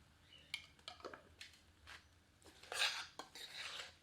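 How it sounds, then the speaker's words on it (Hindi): A ladle scrapes and clinks against a metal pot while onions are stirred for a spicy desi goat mutton curry, a handful of irregular close knocks and scrapes with quiet gaps between them. "एक बार करछी जलाकर सबको मिला देते हैं"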